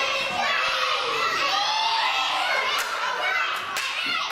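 A live wrestling crowd cheering and shouting in a dense, steady roar during a bout, loud and close throughout.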